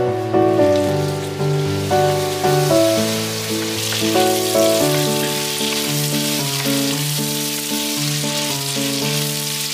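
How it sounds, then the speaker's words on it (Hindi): Pork and tomatoes fry and sizzle in a pan for a jackfruit-with-pork Bodo dish, a dense, steady crackle close by, with no talking. "तो पोर्क को मैंने अच्छे से फ्राई कर लिया, तो अभी मैं यहाँ पे ऐड करूंगी टमाटर"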